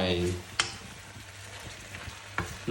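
Wild garlic flowers and fresh shrimp are stir-fried in a pan, a soft oily sizzle punctuated by a few sharp scrapes and clacks of the utensil, with a brief voice at the start.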